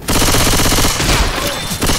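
Players fire rapid automatic bursts at each other in Left 4 Dead 2, loud and close, a dense, continuous rattle of gunshots with no voices.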